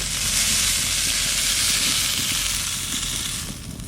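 Fresh vegetables with salt frying in a pan, a loud, steady broad hiss of sizzling oil that eases slightly toward the end, no voices.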